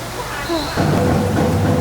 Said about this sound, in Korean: 이렇게 해가 쨍쨍한데 비가 이렇게 많이 와요